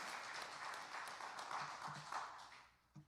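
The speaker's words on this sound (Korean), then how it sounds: "우리 목사님에게 격려의 박수를 한번 보내주시면 좋겠습니다" Church congregation applauding in encouragement of their pastor during a Sunday service, a steady broadband clatter of many hands that fades out near the end, with a brief knock at the close.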